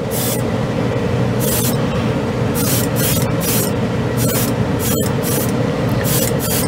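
A steady, loud hiss of Mr. Hobby aqueous paint being sprayed onto a spoon runs continuously, with brief bursts of sharper spray layered on top.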